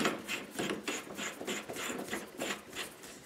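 Wrench tightening an ER collet chuck in a workshop, a close series of rhythmic ratcheting, scraping clicks repeating for a few seconds with no talking.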